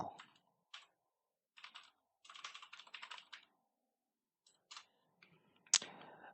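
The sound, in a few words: typing on a computer keyboard, entering a blog address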